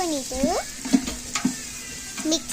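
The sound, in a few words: stirring ginger garlic paste into browned biryani masala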